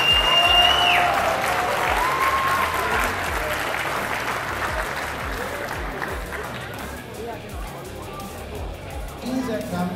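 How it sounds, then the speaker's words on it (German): Sustained loud applause and crowd cheering fill an amateur boxing championship hall after a men's 75 kg final bout, the clapping tapering slightly but continuing throughout. "nochmal einen Applaus"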